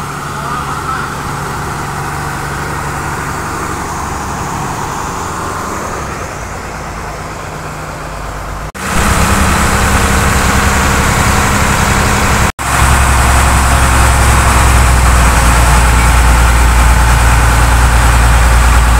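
Motorboat engine droning steadily on a large fishing boat during a trip to collect milkfish fry, a loud continuous rumble that rises sharply partway through as the throttle opens, with brief breaks in the sound.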